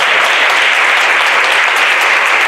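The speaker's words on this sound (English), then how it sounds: "Y'all give this man a round of applause" Loud, dense applause from an audience at a fatherhood awards ceremony, a continuous close roar of clapping hands with no gaps or speech.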